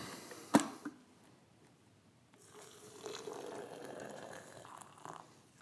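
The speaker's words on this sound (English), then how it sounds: "I'm gonna add 3 cups of water." Hot water poured from a kettle onto coffee grounds in a French press, a steady soft splashing fill that starts after a sharp click and continues quietly and evenly to the end.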